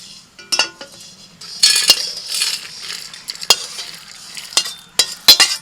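Whole spices dry-roasting in a pan for a village-style pea and spinach curry, stirred with a metal spatula that scrapes and clinks against the pan in irregular bursts, close and fairly loud, with a light sizzle underneath and no talking.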